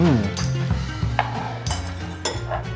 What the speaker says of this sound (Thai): จะคนให้เข้ากันแล้วก็ชิมรอบแรกก่อนนะครับ